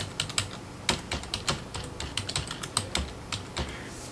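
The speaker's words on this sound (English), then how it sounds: "I type in" Rapid keystrokes on a computer keyboard, close and crisp, in uneven bursts of clicks with short pauses and no talking.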